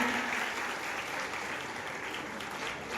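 Strong, sustained applause from students and staff at a college gathering in Dinanagar honoring a visiting scholar, a dense continuous wash of many hands clapping at once with no voices on top.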